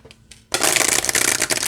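A couple of soft card taps, then a loud, rapid riffling of a deck of oracle cards being shuffled up close.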